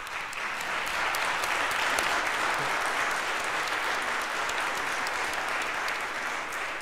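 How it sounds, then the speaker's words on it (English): A church congregation breaks into steady, full applause during a Sunday worship service welcoming a newly baptized member, a dense even wash of clapping sustained throughout without speech. "You can clap."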